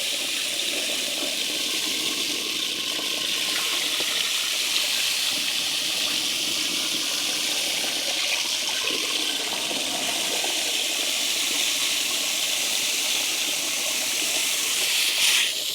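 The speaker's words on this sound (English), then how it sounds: "we're going to be using an irrigation pump. 40 gallons a minute" Irrigation pump pushing about 40 gallons a minute of water through a hose into a container of bee feed, a steady loud rushing gush that runs unbroken throughout.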